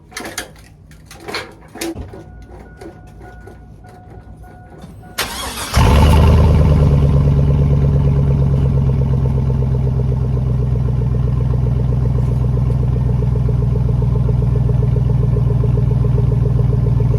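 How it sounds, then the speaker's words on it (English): A 2002 Chevrolet Silverado 1500 2WD pickup: quiet clattering and shuffling, then the engine cranks and catches, settling into a loud, steady rumbling idle that runs close by without pause. "Now she sounds like a truck."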